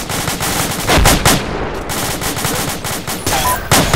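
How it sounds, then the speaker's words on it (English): Sustained Arma 2 video game gunfire, with dense rapid machine-gun bursts and repeated shots rolling on without pause, loud and close, with a heavier volley near the start and another sharp burst at the end. "We're taking too much effective fire."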